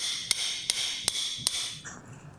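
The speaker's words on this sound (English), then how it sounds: "you can always use the working channel and hammer on the proximal neck of the working channel." Four sharp, evenly spaced metallic hammer taps on the proximal neck of a working channel during SI joint fusion surgery, close and crisp over a steady hiss of operating room equipment.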